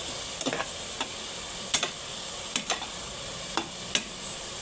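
Onion and garlic frying in a pan for creamy sopas, a soft steady sizzle broken by a few sharp scraping clicks as they are stirred, close and alone without talk.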